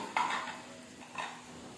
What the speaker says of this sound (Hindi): अब अच्छी तरह से हम इसे मिक्स करेंगे